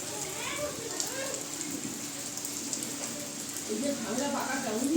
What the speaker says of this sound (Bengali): দেখো কি পরিমাণে বৃষ্টি হচ্ছে